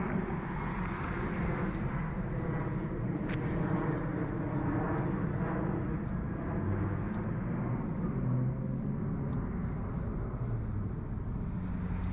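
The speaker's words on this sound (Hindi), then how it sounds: "फिजा में एयरपोर्ट से उड़ता हुआ" A steady, broad airliner roar from a plane climbing out of an airport near Windsor Locks, heard outdoors as continuous rumble with wind buffeting the microphone, fairly loud and unbroken.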